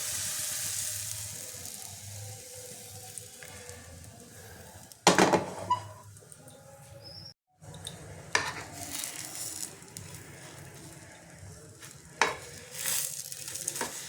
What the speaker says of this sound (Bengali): পাটিসাপটাগুলো এইভাবে আমি সব কটা ভেজে নেব